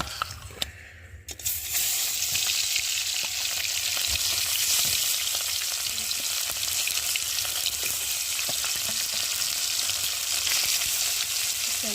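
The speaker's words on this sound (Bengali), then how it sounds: "এই যে নুন হলুদ মেখে রাখা মাছটাকে ভালো করে ভেজে নেব" Fish coated in salt and turmeric frying in hot oil in a kadai gives a steady, dense sizzle that holds evenly after a brief clatter at the start, close and constant with no talking.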